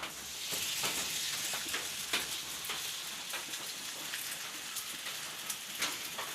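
Roti frying in hot oil in a kadai, giving a steady close crackle and sizzle with scattered sharper pops throughout and no talking.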